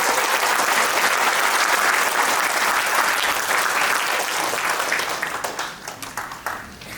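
A council assembly hall audience applauds the provincial council chairman's arrival on stage, loud sustained clapping from a full room that thins into a few last scattered claps at the end.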